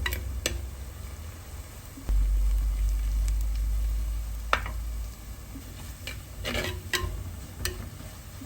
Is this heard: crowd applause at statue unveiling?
no